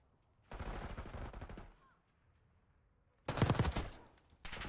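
Bursts of rapid gunfire from a Call of Duty match in a CDL esports tournament, two loud automatic volleys separated by a quiet gap, with a third burst starting at the end.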